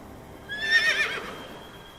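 A horse pulling a tanga cart gives a single short, high whinny that rises and fades over about a second, heard fairly close against a low background rumble.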